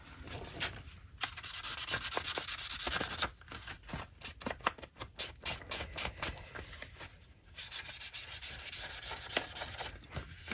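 Paper for junk journal notebook inserts is rubbed and distressed in close, dry, rasping strokes that come in steady bursts with short pauses, with no talking.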